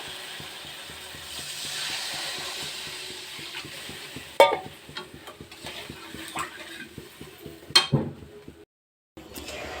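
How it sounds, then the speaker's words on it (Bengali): Water poured into sizzling fried mustard masala for a sarputi fish curry: a close, steady hiss of frying oil with quick crackles and clattering stirring, growing louder, then cutting off abruptly. "মশলাটা আমি ভালো করে কষিয়ে নিয়েছি এখন আমি জল দিয়ে দেবো"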